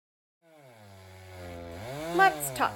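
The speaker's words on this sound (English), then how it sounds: "Let's talk chainsaw mills." Chainsaw mill cutting wood outdoors at camp: a single saw starts quietly and climbs into a steady whining drone that rises and falls in pitch, growing louder toward the end, heard alone.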